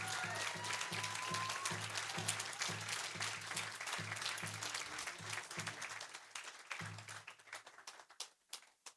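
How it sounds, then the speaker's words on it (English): A crowd claps for the project manager at the grand opening of the Louis LaRose Memorial Building, a full round of applause under a low rhythmic hum, thinning into scattered claps near the end. "Big round of applause to Jamie Chamberlain as a project manager of this building."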